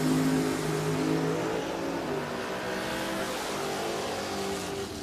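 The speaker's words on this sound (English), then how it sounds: "you got Booty Harris, the 2009 Racetech Dragster, dialed in at a 467. He'll be running up against Chad Duke in the Camaro" A 2009 Racetech dragster and a Camaro race down the strip at Richmond Dragway, engines droning loudly at first then fading into a steady distant roar, with no talk.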